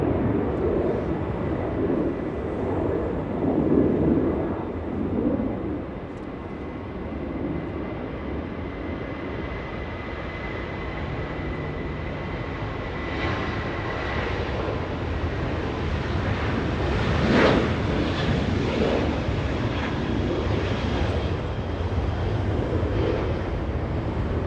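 A Boeing 747 in special livery at Los Angeles International Airport, heard as a steady, distant jet roar with wind noise that swells slightly later on.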